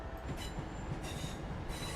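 A Northern passenger train at Crewe station in the railway simulator game Train Sim World 6, a steady low rumble of a train running on the rails with faint wheel noise throughout.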